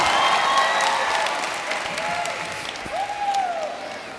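A large audience at Stanford University's Class Day claps loudly in a basketball arena, the dense applause fading gradually while voices carry underneath.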